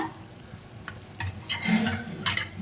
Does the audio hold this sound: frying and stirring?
yes